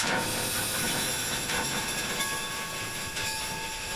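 A moving train sound effect: a loud, continuous rushing rumble with a bright hiss that holds steady throughout, with no voices.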